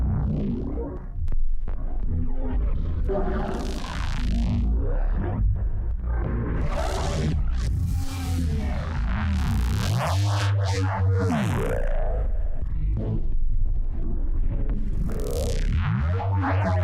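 A deep Phase Plant hybrid synth preset plays alone, heavy low rumbling tones with swelling, morphing upper textures and shifting timbres over a sustained, dense bed.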